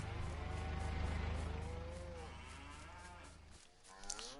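Cows low repeatedly on a farm in a PS4 farming game, long drawn-out moos over a steady low droning hum, fairly close and clear, fading near the end.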